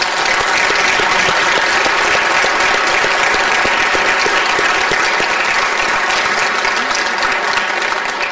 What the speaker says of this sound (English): ladies and gentlemen, let's give our council a round of applause.